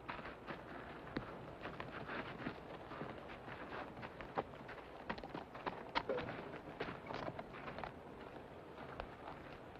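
Horse hooves clip-clop in an irregular, fairly quiet patter of sharp knocks across a faint outdoor background, with no one speaking.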